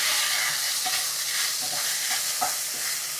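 Okra pieces fry in a pan for a crispy hotel-style bhindi fry, with a constant close sizzle and occasional stirring scrapes, no voices.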